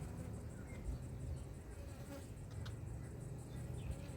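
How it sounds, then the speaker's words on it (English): Honey bees swarm around an open hive during a honey harvest just after rain, their dense, continuous buzzing droning close by with no talking. "Yeah, they're buzzing me."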